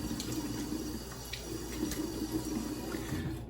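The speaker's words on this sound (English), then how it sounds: "Wash off." Tap water runs steadily in a bathroom sink while someone rinses off after a shave, a continuous close splashing hiss with no talk.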